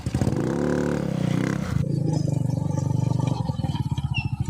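A motorcycle pulls away with a brief rising rev that drops into a pulsing, chugging putter close by as it rides off.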